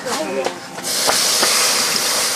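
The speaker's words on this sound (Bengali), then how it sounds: "এখন দিয়ে দিচ্ছি দুধ" Milk poured into a wok on a clay stove while making chhanar payesh. A person talks briefly, then a steady, loud hiss of liquid hitting the hot pan carries on to the end.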